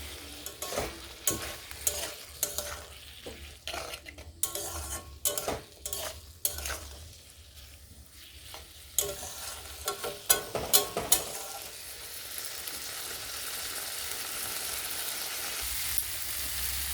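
Rajma kidney beans frying with spice masala in a pan: loud, irregular scraping stirs with sizzling for the first half, then settling into a steady continuous sizzle, no voices.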